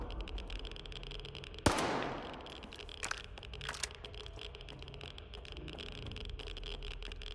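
A grenade goes off in S.T.A.L.K.E.R. 2 as a single sharp, loud blast. Its crackling tail fades over about a second, and a few faint pops come later against a steady low background.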